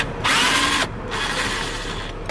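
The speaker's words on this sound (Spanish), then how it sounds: "vamos a usar un taladro" A power drill whirs in two loud bursts, the second longer, with a mechanical ratcheting undertone as nuts are spun off while changing speakers in a Nissan Xterra.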